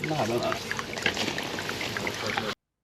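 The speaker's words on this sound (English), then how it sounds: "water is coming down the downpipe, and it's just pooling on the top" Rainwater during heavy rain pours steadily down a downpipe into a storm drain, a continuous splashing trickle at close range with a voice speaking over the start.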